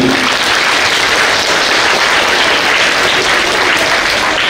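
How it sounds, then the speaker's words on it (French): An audience applauds at a French-language chess event welcoming Susan Polgar, a dense continuous clapping that stays loud and even for the whole few seconds, with no voices. "oui, vous pouvez l'applaudir."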